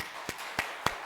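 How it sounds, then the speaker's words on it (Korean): Three sharp, separate claps from a church congregation at an Easter Sunday service, quiet and spaced about a third of a second apart with no voices. "박수하겠습니다."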